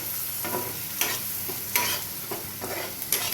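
Curry gets stirred in a pan after salt goes in, repeated scraping strokes about every half second over a soft steady sizzle, close and moderately loud, with no talking.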